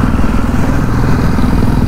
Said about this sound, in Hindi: बगल से निकलते हुए बहुत सुपर बड़ी बाइक